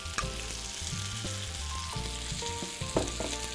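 Fruit grilling on a hot surface with butter and sugar sprinkled over it, giving a steady close sizzle broken by a few soft clinks and scrapes of utensils, with no voices.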